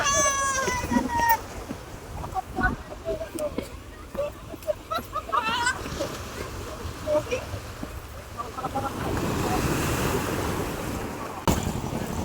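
Sea waves break on the shore at Digha beach, a steady surf rush with wind buffeting the microphone, while a person talks over it near the start.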